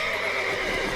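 Horses in The Witcher 3 video game give a loud, close, strained whinny that fills the whole brief moment without a break.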